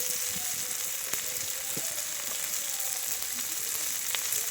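Ginger garlic paste and spices frying in a pan for an egg curry, a steady soft sizzle with a few faint clicks of a spoon, close and continuous without speech.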